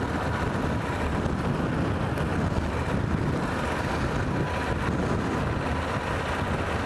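Steady low rumbling wind buffeting the microphone, constant and close throughout, with no voices, at an outdoor cycling race.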